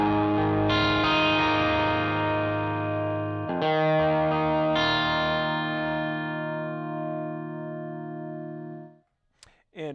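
Electric guitar through a Franklin ProDrive V2 overdrive pedal on its phase 1 setting: a thick, overdriven chord struck three times and left to ring and slowly fade, followed by brief handling noise at the end.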